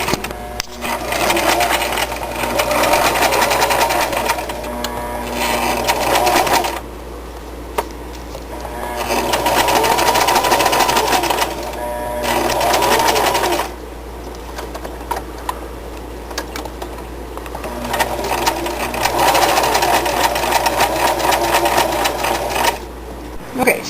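A sewing machine stitches baby quilt fabric with a quarter-inch seam, running in loud sustained bursts with brief slower gaps between them, close up over a low steady hum.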